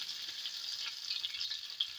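Green chillies sizzle and fry steadily in hot oil in a pan while a fish curry is being made, a continuous close crackling hiss with no one talking.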